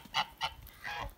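Several short nasal honks from geese, close by, in quick irregular bursts with brief gaps between them.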